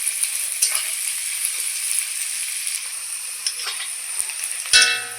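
Onions and garlic fry in a hot wok, a steady close sizzle with occasional clinks and scrapes of stirring, ending in a brief louder clatter.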